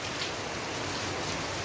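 Heavy rain pours down in a dense, continuous hiss that stays steady and fairly loud, with no voices over it.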